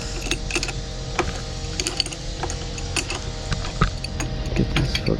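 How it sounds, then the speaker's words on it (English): Ratchet wrench tightening bolts on a Razor SX500 electric scooter, a close series of quick clicking ratchet strokes in uneven bursts over a low background hum. "I'll go ahead and finish up by tightening these down"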